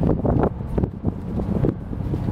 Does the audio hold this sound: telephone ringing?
no